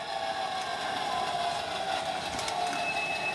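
A train rolls along the track in a steady, dense rumble with metallic squeals and faint clicks during local switching operations, with no talking.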